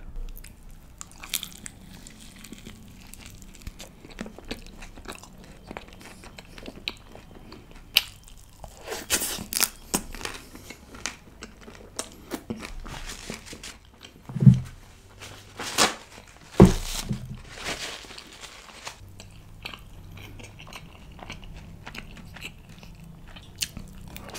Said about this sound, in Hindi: मेथी पराठा पनीर टिक्का मसाला के साथ पनीर के इतने बड़े बड़े पीस डाल रखे हैं it's going for a big bite